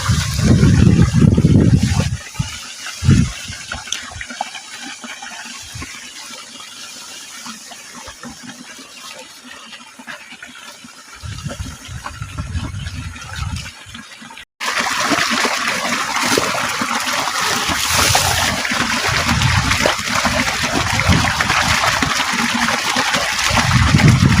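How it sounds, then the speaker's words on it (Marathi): Water is poured and splashed onto clothes for hand washing, with gushing bursts and trickles, then a loud, continuous stream after a short break, all close by. "तर चला बघा पाणी लावते मी"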